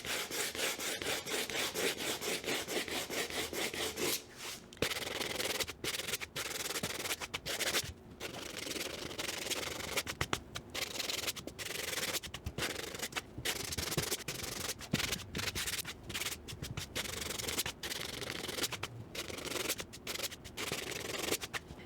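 A wooden board surface being sanded by hand in long, steady back-and-forth strokes, a dense abrasive scratching that runs continuously and close up with brief pauses between passes, no talking.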